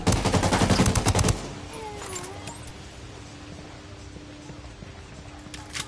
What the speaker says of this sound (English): firing a flare